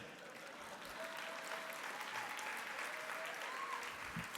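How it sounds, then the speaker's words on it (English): An audience at a black tie dinner in Dallas claps together, a steady, faint wash of applause that holds evenly throughout with no talk over it. "you can clap for getting rid of that sucker."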